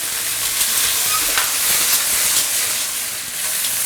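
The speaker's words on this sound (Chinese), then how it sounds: "这个时候下入我们的花甲， 开最大火给它翻炒一下" Clams tossed with dried red Sichuan pepper in a wok over the highest flame give a loud, continuous sizzling hiss with scraping stir-fry strokes, close and steady throughout.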